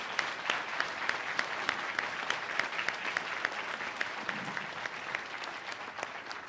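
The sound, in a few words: audience applause for municipal candidates at a forum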